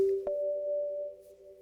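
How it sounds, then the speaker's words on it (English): A steady, pure sine-wave tone from a Kurzweil 2700 synthesizer holds alone after a brief click near the start, then fades slightly toward the end. "Now all we hear is the sine wave."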